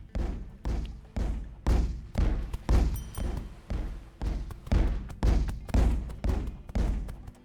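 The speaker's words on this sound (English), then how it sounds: "it sounds like the cannon firing gets quieter as I get closer" Cannon fire in the video game Buster Ocean: a steady run of loud, heavy booming thumps, roughly two per second, each with a short decay. No one speaks.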